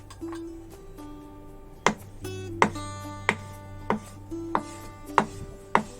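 A knife shreds a fried omelette on a board, about seven sharp knocks at an even rhythm, close up, with ringing tones from a wok in the background.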